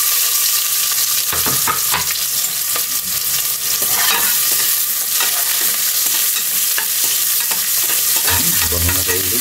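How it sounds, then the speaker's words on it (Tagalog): Onions sauté in a hot pan for bulalo bakalaw, giving a loud, continuous crackling sizzle with stirring scrapes and clatters of a utensil moving through the pan. "lalagyan natin yung sibuyas natin."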